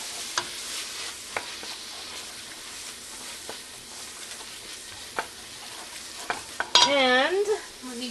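About three tablespoons of tomato paste stirred into tortilla soup in a pan, with quiet scraping strokes over a low sizzle, then a brief louder clatter and squeak near the end.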